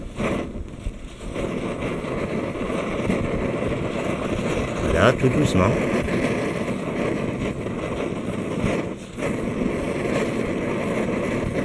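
APG petrol camping stove running on unleaded fuel, burning with a steady broadband roar after its valve is reopened, while someone speaks in French over it.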